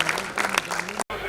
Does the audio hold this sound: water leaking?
no